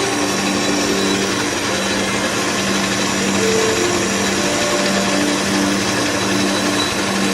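A lathe runs steadily while turning a long workpiece in a workshop, giving a continuous, loud mechanical whir with faint tonal whines and no breaks.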